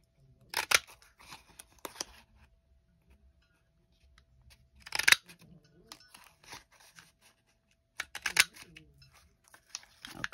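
Scissors snip through glued paper while cutting out journal tags, coming in three clusters of crisp, close cuts separated by quiet pauses with faint handling rustles.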